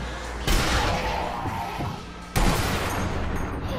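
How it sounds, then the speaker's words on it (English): Two heavy shotgun blasts in the zombie shooter game Zombie Army 2, loud and booming, with a dense wash of game noise that continues between and after the shots. "Oh yeah, juicy, thick shot."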